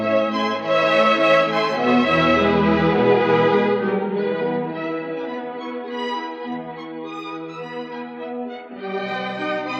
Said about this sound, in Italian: È il suono dei violini.